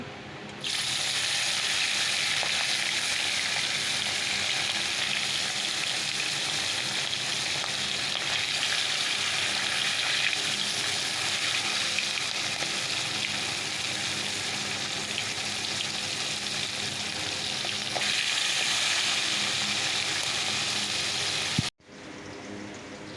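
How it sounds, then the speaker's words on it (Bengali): A big fish fries in hot oil with a loud, continuous close sizzle that holds steady for about twenty seconds, then cuts off abruptly near the end. "তেল দিয়ে দিয়েছি বড় মাছটা ভেজে নেই"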